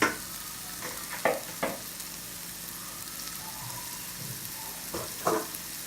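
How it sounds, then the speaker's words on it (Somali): Chopped onion, garlic and coriander fry in hot oil for a spinach dish, giving a steady sizzle broken by a few sharp stirring scrapes and clinks, close up with no talking. "waxaan ku samaysanaynaa spinach marka waa basal aan yaryareyey hal xabo basal ah toon iyo kabsar caleen"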